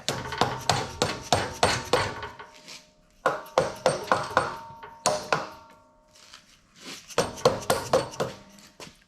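A hammer raps on a CF Moto 800 UTV engine part during a motor teardown, sharp metallic knocks coming in quick bursts of repeated blows with short pauses between them, close and clear.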